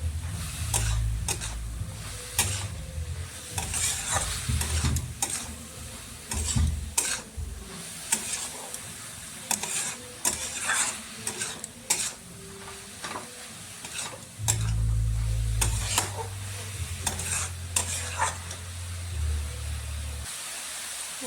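Grated carrot fries with coconut and dry fruits for carrot halwa, a close steady sizzle with frequent spatula scrapes and taps, and a low hum in places.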